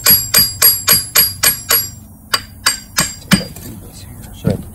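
A hammer taps a new water pump into place on a Silversides bus. A quick run of bright metallic strikes is followed by slower, spaced blows, loud and close, with faint voices underneath.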